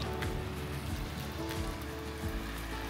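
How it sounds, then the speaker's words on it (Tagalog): Steady rain falls outdoors in Sapporo, Japan, a dense continuous hiss with occasional drips, heard alone without voices. "Umuulan lang."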